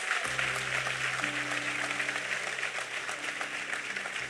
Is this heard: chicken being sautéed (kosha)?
no